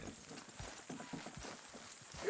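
Horse hooves clip-clopping in Red Dead Redemption 2, a faint, uneven series of soft thuds at a walking pace, low in level with background ambience.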